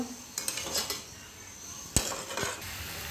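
A spoon stirs chicken with cumin and coriander powder in a pan, sounding as several light metallic scrapes and clinks, with a sharper knock near the middle, over a faint background hiss.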